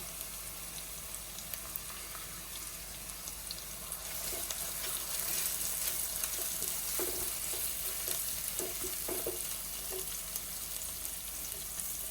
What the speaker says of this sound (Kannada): ಕರಿಬೇವಿನ ಸೊಪ್ಪು ಹಾಕ್ತೇನೆ.